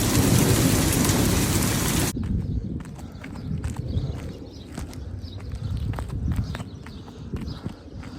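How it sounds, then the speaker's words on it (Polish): A hailstorm with rain and thunder, recorded on a phone: a loud, dense pounding of hail and rain for the first two seconds, then softer steady rainfall with distant rumbling. "Jaki grad mieliśmy."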